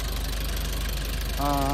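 A 16-seater van engine idles close by with a steady low throb, joined near the end by a brief tonal whine over the running motor.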